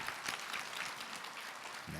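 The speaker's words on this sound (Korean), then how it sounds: "큰 박수를 한번 맞아주세요." Steady audience applause at a Buddhist Dharma talk event, dense even clapping filling the room continuously.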